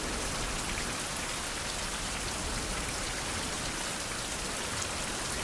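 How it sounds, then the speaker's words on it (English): Rain pours steadily in a survival video game set by the sea, a dense, even hiss of falling drops with no pauses. "I like the rain"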